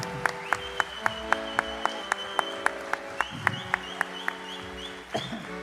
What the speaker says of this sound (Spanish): A ver los aplausos más fuertes para él.